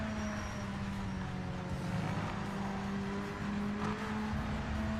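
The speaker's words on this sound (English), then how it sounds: "Where the revs suddenly surge. It's the clutch use." Race car engine in the Project Motor Racing video game holding a steady droning note, with revs briefly surging from clutch use; a continuous, fairly loud engine tone with no talk.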